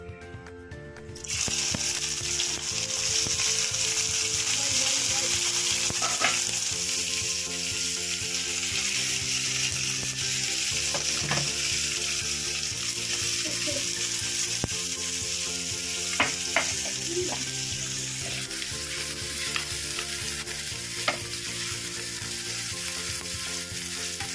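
Sliced onions frying in a pan for lemon rice chitranna, a steady close sizzle that starts after a second and runs throughout, with occasional stirring clicks and scrapes.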